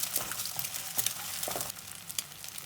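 Two eggs fry and sizzle in hot oil with garlic for seafood fried rice while a spatula stirs them, giving crackling sizzle with scraping strokes in the pan and no voices.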